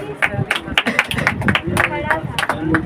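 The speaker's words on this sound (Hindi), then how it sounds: "प्रभु के लिए ताली।" A congregation at a Hindi-language church testimony service claps for the Lord, with sharp, fairly rhythmic handclaps ringing out close by while a voice keeps talking over them.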